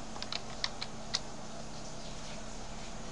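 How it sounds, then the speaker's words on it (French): Computer keyboard being typed on, a handful of light, sparse key clicks over a steady background hum, close and fairly quiet. "c'est parce que j'utilise un clavier"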